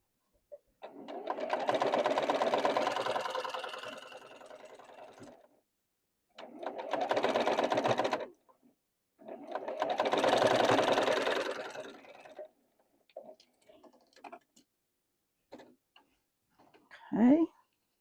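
A sewing machine stitches quilt block pieces in three running bursts of a few seconds each, separated by pauses, followed by faint clicks and a short voice at the end.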